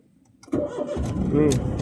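A car engine cranks and catches after a quiet moment, then settles into a steady idle close by, with a voice talking over it.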